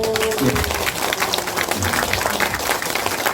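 Party members at a general meeting of a regional party group applaud in a busy hall, a continuous wash of clapping mixed with crowd noise and some voices, steady and fairly loud throughout.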